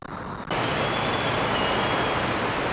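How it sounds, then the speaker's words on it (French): Heavy rain suddenly starts pouring down in Malaysia, a dense, steady, loud hiss of downpour that fills the scene after a brief quieter moment at the start. "parce que là, ça y est, il pleut"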